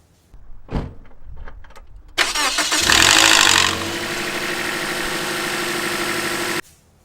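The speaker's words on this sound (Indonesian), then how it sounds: "suaranya sangat kasar, klatak-klatak itu" Toyota Vios/Yaris engine with a rough, rattling VVT-i fault: a brief mechanical clunk, then the engine cranks and catches, revving loudly before settling into a harsh, steady clattering idle that cuts off near the end.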